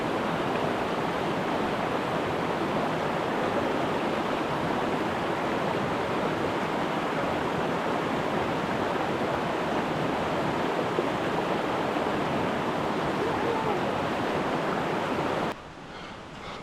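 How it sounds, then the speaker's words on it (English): The Fielu waterfall in Lapland, running down to the Kevo River, rushes in a dense, constant roar of falling water, close and unbroken until it drops away abruptly at the very end. "That's the Fielu waterfall, and it runs down to the Kevo River."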